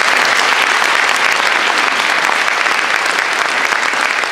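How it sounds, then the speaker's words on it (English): Audience applauds wind ensemble bands at a winter camp concert: dense, steady clapping from a large crowd that holds at an even, loud level from start to finish. "So a round of applause for the first two bands again."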